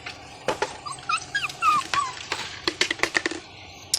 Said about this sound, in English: He's learning how to howl.